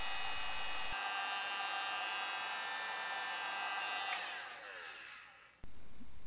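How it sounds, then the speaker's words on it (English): A heat gun blows a steady, even whoosh of hot air onto a plastic bottle being reshaped, running close and continuous before dipping briefly and cutting back in with no talk. "you can improve it a bit using a heat gun."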